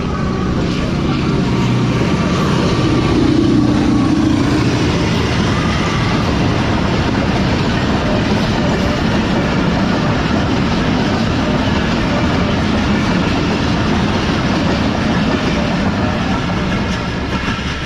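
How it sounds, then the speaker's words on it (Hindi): A passenger train rolls toward Shahjahanabad Junction in Pakistan, with steady loud rumble and rattling wheel noise throughout, continuous and near, without speech. "ट्रेन हमारी जो है वो अप्रोच बना रही है शाहजहाबाद जंक्शन रेलवे स्टेशन पर"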